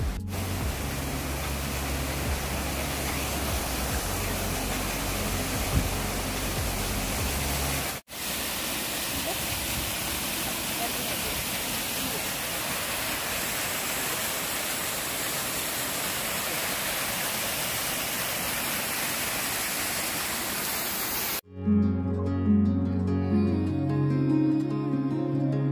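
Water pours and rushes steadily as someone collects it at a village water source, a loud continuous hiss that cuts briefly once before ending abruptly into quieter background sound.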